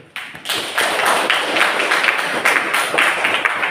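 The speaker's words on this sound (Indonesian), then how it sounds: "Sebelumnya kita tepuk tangan dulu." A room of people claps hands together at a teacher performance assessment session, loud close rhythmic clapping that starts abruptly after a brief pause and carries on steadily with slightly uneven beats.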